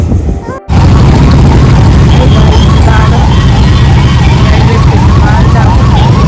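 An ambulance siren wails in a rising and falling pattern, loud and close, over heavy traffic rumble after a brief cut at the start.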